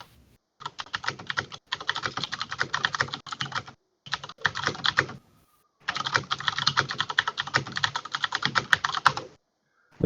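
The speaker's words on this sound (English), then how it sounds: "You guys can probably hear that keyboard, can't you?" Rapid, loud computer keyboard typing comes in several long bursts of dense keystrokes, broken by brief silent pauses, close to the microphone.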